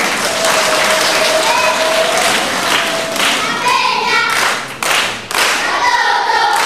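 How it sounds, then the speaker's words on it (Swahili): Steady, dense applause from a church congregation fills the whole stretch, with heavy rhythmic clapping and a few thumps near the end. "mpige makofi kwanza mpaka hapo"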